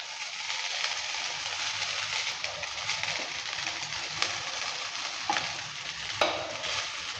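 Carrot, capsicum and boiled Wai Wai noodles stir-fry together for veg chowmein, a steady bright sizzle with intermittent spatula scrapes and clacks against the pan, near and unaccompanied by speech.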